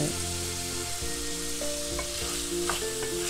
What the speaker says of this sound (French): je suis en train de faire, de griller en fait mes crevettes